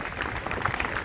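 An audience at a public meeting on drug awareness breaks into steady applause, a brief, dense burst of clapping from many hands.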